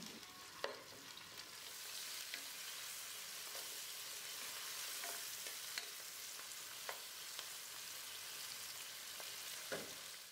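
Onion frying in oil and ghee, a steady close sizzle with occasional scraping stirs from a utensil in the pot.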